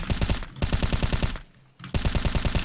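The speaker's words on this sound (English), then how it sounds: "If the smoke is here, you look at this wall and you just shoot next to it." Rapid automatic gunfire from the Counter-Strike Inferno map, loud, close bursts of evenly spaced shots that stop for about half a second and then start again.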